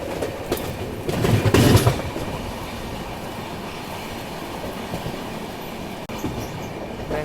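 Train rolling along the Bengaluru-Chennai main line, a surge of wheel rumble and squeal early on, then steady clickety-clack of passing wagons fading to a lower hum.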